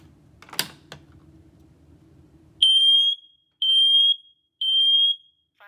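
A Siterwell smoke alarm under test gives three loud, piercing high-pitched beeps in an even rhythm, each about half a second long with short gaps between. Before the beeps come a faint low hum and a couple of brief clicks.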